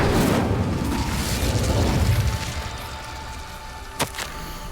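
Incendio fire spell cast in Hogwarts Legacy, a loud roaring whoosh of flame that fades after about two seconds, followed by one short sharp crack.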